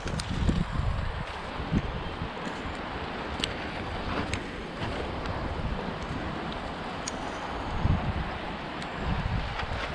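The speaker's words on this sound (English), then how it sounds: "The wind is howling. Prevailing wind is just blasting the water that's on the greenhouse roof clean underneath." Storm wind howls and buffets a greenhouse cover, driving rain hammering the roof in a continuous roar with sharp gusts and rattling hits, no talk over it.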